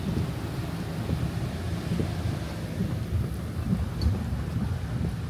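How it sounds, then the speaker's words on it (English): Storm wind and crashing surf at a beach during Storm Debby's surge, a steady low rumbling roar with gusty buffeting on the microphone, fairly faint and with no talking. "we're getting that really bad part of the storm getting by here right now"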